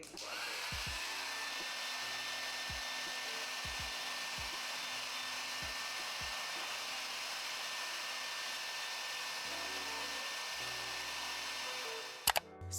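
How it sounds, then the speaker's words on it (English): A handheld blow dryer hooked into an at-home soft hood hair dryer runs in a steady, even whir with a faint high whine, with a few soft thumps early on and a brief clatter near the end. "You get your blow dryer, attach it into here"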